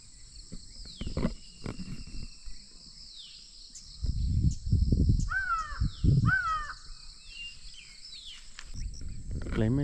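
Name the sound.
crow cawing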